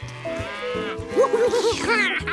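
A cartoon cow gives a drawn-out wavering moo, rising and falling over music in a children's animated show, fairly loud and close.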